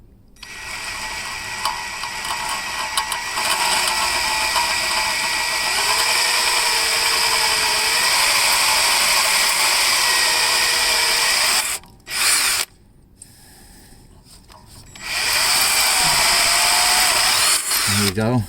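A power drill opens up a 2mm pilot hole toward 4mm in a snapped flywheel stud, running loud and steady with brief stops and restarts and faint speech underneath.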